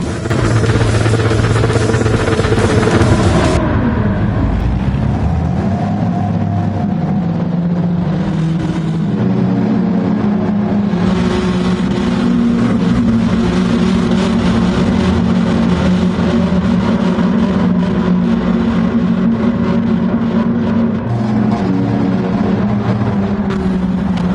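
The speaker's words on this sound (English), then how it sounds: "Just like that, the race begins. Engines roar." Race car engines roar together at the start of a Gran Turismo 7 World Series manufacturers race, a loud continuous droning blend of revving motors that swells and sustains throughout with no talk.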